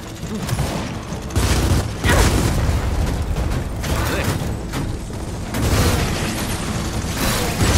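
A Tracker in Gears of War 4 is destroyed in a loud, sustained explosion with heavy booming and clattering mechanical debris, all dense and close throughout.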